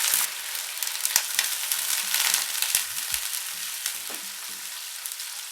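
Browned onions sizzle in hot oil as water is added while cooking aloo matar pulao, a steady hissing fry with scattered stirring clinks and scrapes, close and alone without any voices.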